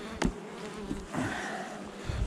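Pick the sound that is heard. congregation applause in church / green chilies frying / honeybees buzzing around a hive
honeybees buzzing around a hive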